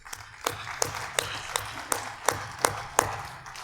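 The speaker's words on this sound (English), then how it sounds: "Give yourselves a clap." An audience of educators at a hall of fame ceremony claps in a loose, sparse way. Eight or nine distinct claps land at a steady pace, each fairly close and sharp, over a quiet room murmur.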